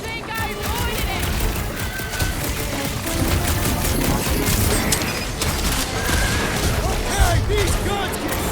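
Rapid, dense gunfire and crashing impacts from a shooting fight in the Guardians of the Galaxy PS4 game, loud and continuous throughout, with game character voices speaking over it.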